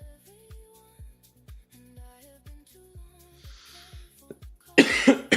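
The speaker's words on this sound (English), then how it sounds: "Got a little dry cough going on." After a stretch of soft plinking music, a short burst of dry coughing breaks in close and loud near the end.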